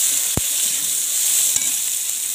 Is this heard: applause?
no